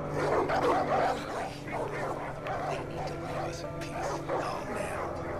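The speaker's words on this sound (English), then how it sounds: "I want to play with the puppy dog." A dog in the game Far Cry 5 barks and whimpers in short yips mixed with game ambience, while a person talks over it throughout.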